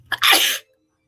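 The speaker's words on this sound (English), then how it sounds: "why didn't you give me a tissue before I sneezed?" A woman sneezes once, loud and close: a short breathy intake followed by a sharp burst, then silence.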